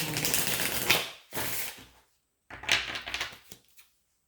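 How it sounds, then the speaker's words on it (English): Two bursts of crisp, papery riffling and flicking of tarot cards being shuffled close by, separated by a short pause. "I'm shuffling off the table"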